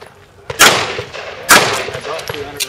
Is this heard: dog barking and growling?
no